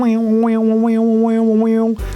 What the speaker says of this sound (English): it's actually that little arpeggio sequence that goes